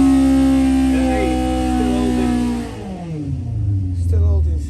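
A race car engine, prepared for Brands Hatch, holds a steady high rev before the pitch drops away and settles into a lower, rumbling idle with a brief blip.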